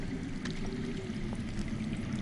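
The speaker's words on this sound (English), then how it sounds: "That's water. I hear water. From underground." Water runs underground in a Game of Thrones video game, a low, continuous rushing murmur that holds steady throughout with no talk.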